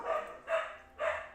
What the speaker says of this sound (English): And there are the dogs.